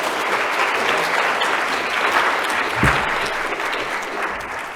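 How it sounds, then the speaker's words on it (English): At a plastic pollution prevention conference, the audience applauds the session speakers with a full, steady round of clapping. It stays at an even, fairly loud level for about five seconds, with no voices over it. "So just final round of applause for the speakers for this session, please."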